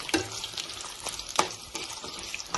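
A small piece of ginger fries in a pan, giving a faint, steady sizzle broken by soft scrapes and clicks of stirring.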